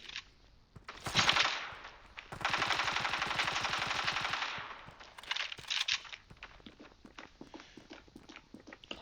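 Rapid AK rifle bursts in the mobile shooter Standoff 2: a short automatic volley, then a longer sustained stretch of dense gunfire, followed by scattered shots and footsteps.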